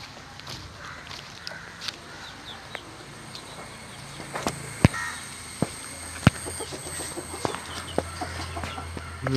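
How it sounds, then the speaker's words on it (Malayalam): A native hen on a backyard poultry farm clucks softly and intermittently, close by, amid sharp scattered taps and footstep-like scuffs. "നമ്മൾ നോക്കാം നാടൻ പിടക്കോഴിയാണ്"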